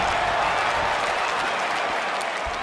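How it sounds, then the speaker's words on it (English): Crowd cheering and applauding in the WWE 2K20 wrestling video game during a SmackDown women's match in a Brooklyn arena, a dense, steady roar of clapping and cheers holding at even loudness throughout. "this Brooklyn crowd has been anticipating this match ever since the doors opened tonight"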